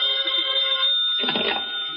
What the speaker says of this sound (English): reaching for the telephone, which has been ringing insistently